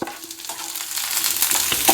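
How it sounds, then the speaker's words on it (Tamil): Onions and tomatoes lightly frying in a pan, a close, steady sizzle with soft stirring scrapes that grow slightly louder toward the end, no talking. "வெங்காயம் போட்டு ரொம்ப நல்லா வதக்க தேவையில்ல, லைட்டாக வதங்கினாலே போதும்"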